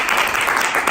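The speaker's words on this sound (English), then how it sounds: "Clap it up." Brief burst of audience applause at a business growth conference, dense continuous clapping from a crowd, loud and close.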